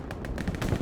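Rapid bursts of gunfire in a video game firefight, a quick series of sharp, clipped shots firing in an irregular rhythm at moderate loudness.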